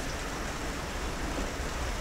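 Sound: rain falling

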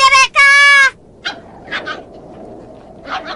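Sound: dog in Tagalog-dubbed anime

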